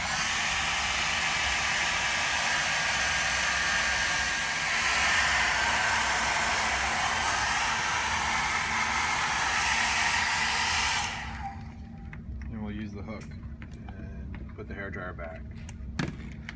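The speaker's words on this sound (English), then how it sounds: "I'll use the hair dryer" A hair dryer drying a circuit board after LPKF electroplating blows with a steady, loud rushing roar for about eleven seconds, then cuts off, leaving quiet room tone with a few small knocks.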